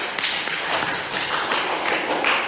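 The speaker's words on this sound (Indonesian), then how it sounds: "Baik, tepuk tangan dulu untuk semuanya yang sudah presentasi." A classroom of students claps after group presentations in an art criticism lesson, a dense, steady patter of hand claps that runs throughout at close range.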